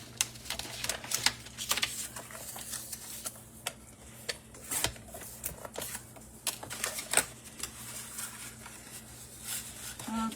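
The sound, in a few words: cutting card paper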